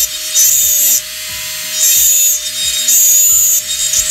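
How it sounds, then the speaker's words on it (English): A high-pitched dental drill whines in three long bursts while it grinds into material, loud and close. "it is a dentist drill that I'm using."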